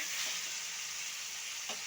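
Chicken meat fries in a pan with a brief, even sizzle and soft hiss, quiet and unbroken, with no voices.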